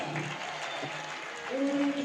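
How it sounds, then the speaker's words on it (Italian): An arena crowd at a roller hockey match applauds steadily at moderate distance while an announcer talks over it. "ricevere anche gli applausi del pubblico presente"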